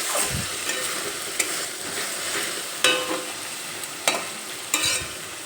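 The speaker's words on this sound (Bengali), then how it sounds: "টমেটো পেস্ট দিয়ে আবারও একটু নেড়ে চেড়ে নেব" Pointed gourd curry sizzles in a pan as tomato paste is stirred in. A steady frying hiss sits under a handful of sharp scrapes and taps from the spatula, close and with no speech.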